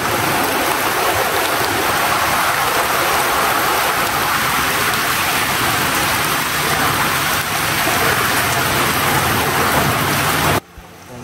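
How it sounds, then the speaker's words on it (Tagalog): Heavy rain pours down in a dense, continuous roar, loud and close, before cutting off abruptly near the end. "Grabe, inabot na po ako ng malakas na ulan."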